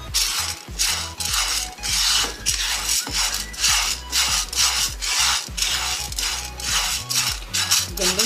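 Wheat grains dry-roasting in a pan for alsi pinni, stirred constantly with a spatula, giving a steady loud scraping and rustling with rhythmic strokes throughout.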